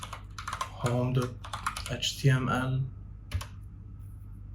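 Computer keyboard typing in short bursts of clicks, with someone talking over much of it at close range.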